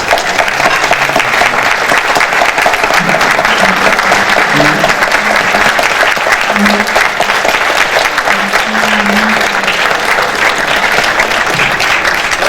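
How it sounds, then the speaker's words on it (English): Loud, sustained audience applause fills a church centennial gala, dense clapping continuing evenly throughout with faint murmurs of voices beneath. "Please stand for a round of applause."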